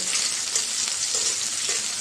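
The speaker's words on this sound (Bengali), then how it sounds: "কাঁচামরিচ, পেঁয়াজটা ভেজে নেব" Chopped onions, green chillies and a little minced garlic fry in a hot pan, giving a steady dense sizzle with faint stirring scrapes and no talking.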